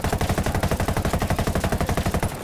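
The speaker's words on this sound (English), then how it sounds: "Let's go ahead and fire another shot here." Rapid full-auto assault rifle fire with a compensator in Ghost Recon Wildlands, a loud, steady stream of about twenty evenly spaced shots that runs to the end.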